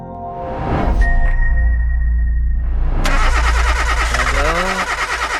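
An old, worn-out car engine cranks and strains for a few seconds, then catches and is revved hard, a loud close roar that wavers as the throttle is pumped, with a brief voice near the end.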